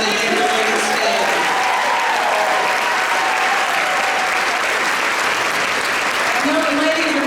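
An audience gives a round of applause for educators at an all-staff celebration, dense sustained clapping from a large crowd with some cheering, steady throughout.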